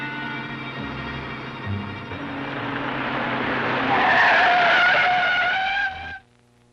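Radio-drama effect of a car chasing a dynamite-loaded truck, engine roaring louder as tires skid and squeal in a long rising screech before cutting off abruptly.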